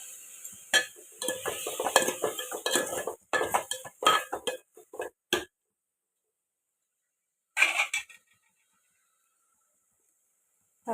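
Tomatoes frying with salt in a pan, a spoon stirring and clinking against the metal in bursts for about five seconds, then a brief scrape after a pause, with no talking.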